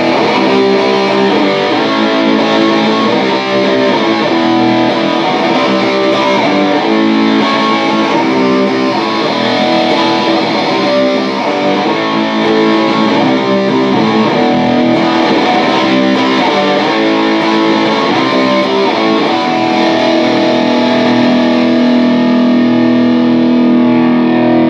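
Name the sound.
guitar through Hardwire TL2 Metal Distortion pedal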